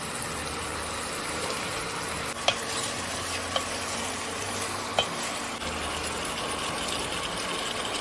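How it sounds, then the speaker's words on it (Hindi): Meat frying in a pot for nalli nihari, a steady loud sizzle with a low hum underneath and three brief metallic taps from stirring, no speech. "तो हमारा गोश्त जो है हमने भुनने रख दिया है"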